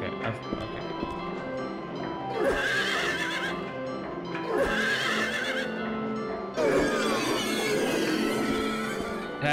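Repeated horse whinnies ring out in three loud bursts over a constant rumble of hooves and background game noise in Silent Hill 3.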